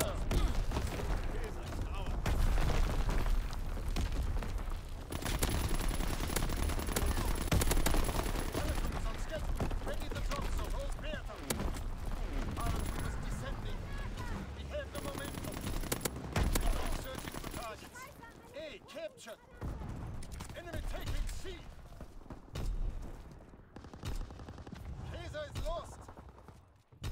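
Artillery battery bombardment in an online shooter game: dense, loud bursts of firing and blasts roll on continuously, thinning toward the end, with a synthetic radio voice and players talking over it.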